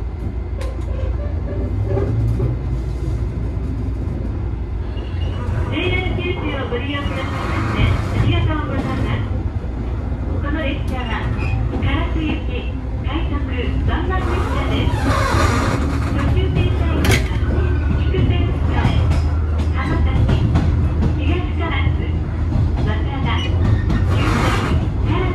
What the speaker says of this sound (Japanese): 国鉄車ということでね、古い車両ですので、きしんだ音を立てながら加速していきます。